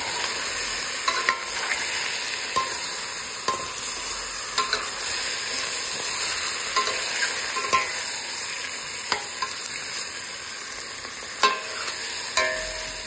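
Black pepper and coriander powder fry in a pan for molokhiyah soup with chicken, a steady sizzle broken by repeated sharp scrapes of stirring.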